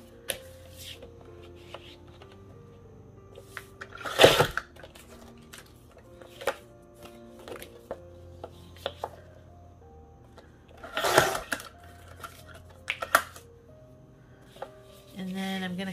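Scissors and a paper trimmer work through paper ephemera for crafting, with sporadic crisp snips, rustling and a few louder shuffling bursts at a close, quiet table, separated by near silence.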